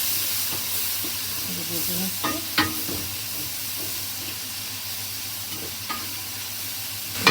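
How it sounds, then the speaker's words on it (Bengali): Dried chela fish shutki from Cox's Bazar frying in a pan, a steady broad sizzle and hiss running throughout with occasional scraping stirs and clinks up close, no talking. "এখন একটু লাগাতারা করবো, তাহলে ভেজে নিব আর কি শুটকিগুলো"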